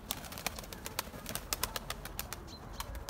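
Pigeons at a loft cooing and flapping their wings in quick bursts, a fluttery, clattering patter with soft coos, fairly faint against an open outdoor background.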